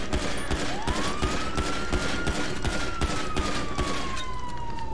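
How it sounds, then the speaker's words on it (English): Gunfire crackles in the GTA V roleplay video game amid a police shootout, rapid shots popping at regular intervals over a wailing siren that sweeps up and down throughout. "Shots fired."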